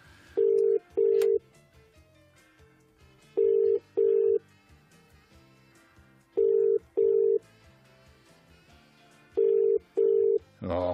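An outgoing telephone call rings four times as paired double-ring bursts, clear and evenly spaced, with faint background noise between them and no talking.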